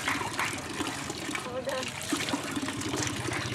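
Water is poured from a bucket over a child's soapy feet during a Filipino-style bucket bath, giving a close, continuous splashing rush of water.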